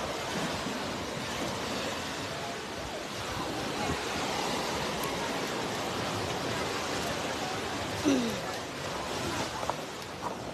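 Rising tide at a beach picnic brings a steady, unbroken wash of surf, a constant moderate roar with no distinct breaks.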